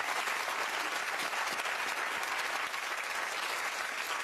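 Studio audience on a daytime talk show bursts into steady, dense applause that fills the whole stretch at an even level, with no voices standing out above it.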